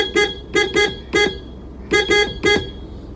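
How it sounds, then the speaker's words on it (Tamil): The stock horn of a 2022 Maruti Alto K10 honks in loud, close, high-pitched toots, a cluster of three quick beeps, a single beep, then three more, with no talking. "இப்போ என்னோட வண்டியில் இருக்கக்கூடிய ஹாரன் சவுண்ட் எப்படி இருக்குது அப்படின்னு நீங்கள் பாருங்கள்"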